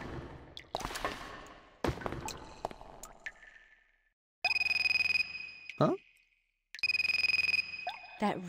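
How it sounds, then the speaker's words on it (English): In the Raw Danger video game, splashes and drips of water come first, then a phone ringtone rings in two loud, electronic bursts with a short silent gap between them. "That ringtone."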